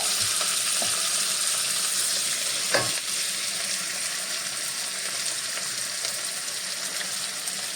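Chopped onion sautéing in a pan for upma hisses in a steady, close sizzle that stays even throughout, with one brief stir-like knock near the middle.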